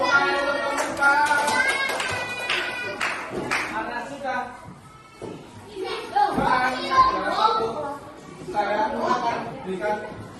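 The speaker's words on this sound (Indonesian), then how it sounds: "Tepuk tangan untuk kelompok 4." Children applauding for a small group in a classroom at a school activity, with bursts of clapping mixed under lively kids' chatter and an adult voice talking throughout.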